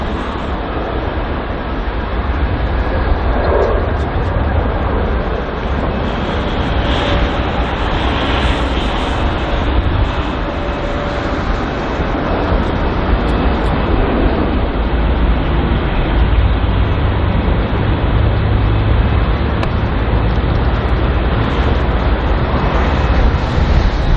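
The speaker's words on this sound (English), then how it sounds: "So quite a large queue of departing aircrafts building up now at" Departing jets taxiing in a queue at London Heathrow airport give off a steady, loud broadband engine roar with a deep rumble underneath, continuous and unbroken for over twenty seconds.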